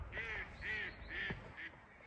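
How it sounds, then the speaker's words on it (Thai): Four raspy duck quacks in an even rhythm, close and clear, with no talking. "อันนี้เสียงเป็ด"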